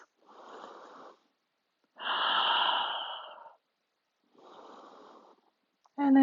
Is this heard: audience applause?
no